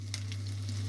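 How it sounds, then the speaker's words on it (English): Potatoes sizzling in butter in a pan, a steady close frying crackle with a low hum beneath, brief and uninterrupted. "I'm going to go ahead and fry them for a little while,"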